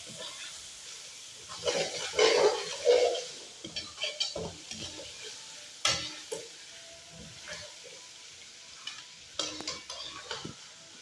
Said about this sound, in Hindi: अच्छी तरह बुनाई करें।